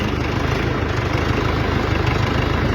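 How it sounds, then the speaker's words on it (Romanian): A rebuilt UTB tractor engine runs in fourth gear with the reduction gear set high, giving a loud, constant mechanical drone with a low pulsing throb and no voices. "uite îți fac un video acum să vezi cum se aude reductorul la mine"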